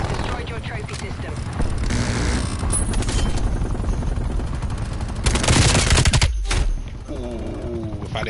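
Rapid automatic gunfire rattles in bursts during a Call of Duty match, mixed with pistol shots, mechanical clatter and a rotor-like drone, loud and close, with a brief drop to near quiet before firing resumes.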